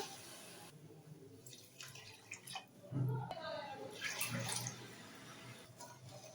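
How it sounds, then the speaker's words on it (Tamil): About three cups of water are poured into a pan to make sugar syrup, giving short splashing, trickling bursts with quiet kitchen sounds and faint speech in between. "இப்போ இதுக்கு 3 கப் போல் தண்ணி சேர்த்துக்கிறேன்."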